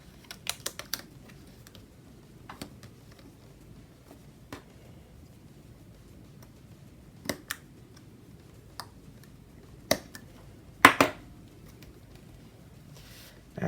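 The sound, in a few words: scissors cutting paper banners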